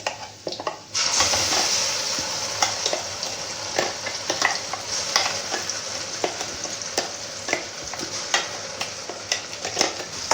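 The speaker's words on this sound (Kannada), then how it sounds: "ಈಗ ಫ್ರೈ ಮಾಡ್ಕೊಳ್ತಾ ಇದ್ದೀನಿ." Ground masala paste for chana masala frying in a pan over low heat, with a steady close sizzle broken by frequent scraping stirs of a spoon against the pan.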